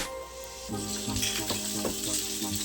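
Onions sizzle in a hot pan with ginger, garlic and green chilli, a steady frying crackle that jumps louder as they are tipped in, with a few soft stirring knocks and a faint tonal hum underneath.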